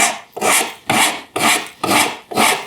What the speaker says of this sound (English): As long as I'm not going this direction and digging this corner of the rasp into the curve